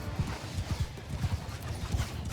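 Cavalry horses gallop in a Mount & Blade II Bannerlord battle, a steady rapid drumming of hooves over a rumbling, noisy battlefield background, continuous and moderately loud with no voices.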